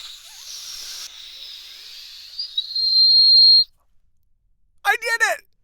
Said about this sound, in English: I know there's a way to whistle by doing this